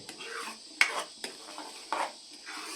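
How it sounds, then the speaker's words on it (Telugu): A spoon stirs a thick mango jelly mixture in a pan over a medium flame, giving soft scraping and sticky squelching strokes with a few light clinks against the metal, close and unhurried. "ఇలా నిదానంగా కలుపుతూ ఉండాలండి"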